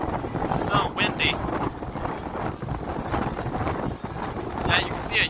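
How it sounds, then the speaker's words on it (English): Gusty wind buffets the microphone on an open, windy day, a loud rumbling roar that swells and dips in waves, with a voice speaking over it. "it's so windy"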